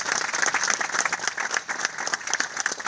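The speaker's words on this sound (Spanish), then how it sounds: "Un aplauso, un aplauso." Live radio-show audience applauding, brisk close clapping in a dense, lively burst that stays loud for the whole moment.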